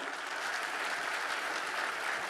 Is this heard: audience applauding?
yes